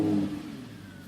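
A 2016 Audi R8's 5.2-litre naturally aspirated V10 starts and revs loudly, then settles into a low, steady rumble, close up with no voices.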